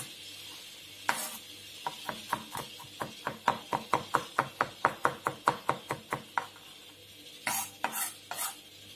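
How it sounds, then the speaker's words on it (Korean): Sliced garlic chopped finely with a knife on a board: a rapid, even run of about twenty crisp taps, close and clear, followed by a short burst of heavier chops. "마늘을 슬라이스 한 후에 씹히는 감이 있게끔 잘게 다져줍니다."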